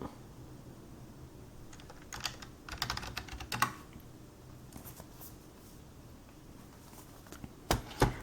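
Fingers tap out a Windows password on a Cube i6 Air tablet keyboard, producing soft irregular clicky keystrokes in small clusters, quiet and close, with no talk.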